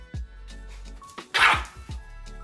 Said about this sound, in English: My girlfriend's dog is a rescue,